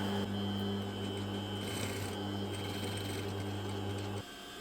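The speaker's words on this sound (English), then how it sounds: "I'm gonna sew all around using a seam allowance of 1/8 of an inch." A domestic sewing machine stitches a leather credit card wallet with a wide stitch length and a 1/8-inch seam allowance, giving a steady, close motor hum and rapid needle chatter for about four seconds before it stops.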